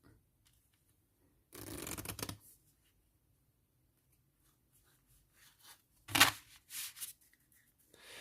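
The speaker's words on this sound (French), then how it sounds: "Je mélangeais là aussi le paquet." A deck of cards is shuffled in two quiet bursts of riffling and snapping, close by in an otherwise silent room, with a few faint handling sounds between them.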